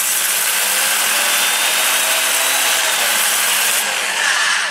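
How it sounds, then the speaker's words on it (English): Hand sanding on a winged plum crotch hollow form, a close, steady abrasive hiss that stays loud and even throughout with a slight change near the end, no voices. "So I'll end up sanding it by hand like that."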